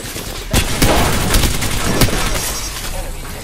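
Rapid bursts of gunfire ring out in the video game Apex Legends, with sharp cracks and rattling shots over a busy battle background.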